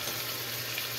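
Minced garlic sizzles steadily in a hot pan, a close, constant crackling hiss with no breaks and no voices over it.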